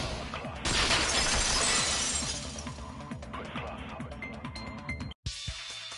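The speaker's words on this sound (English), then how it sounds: "If it wasn't the window, then what broke to make that sound? A vase." A vase shattering in the video game Danganronpa 2, a bright burst of breaking ceramic followed by tinkling fragments over a rhythmic game music loop, ending in an abrupt cut and a short sharp hit.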